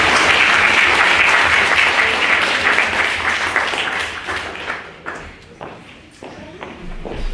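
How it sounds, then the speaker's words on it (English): A debating society audience gives a loud round of applause for a secretary at a university meeting; the clapping is dense at first, then thins and fades into scattered claps near the end. "Give Jimmy a big round of applause, please."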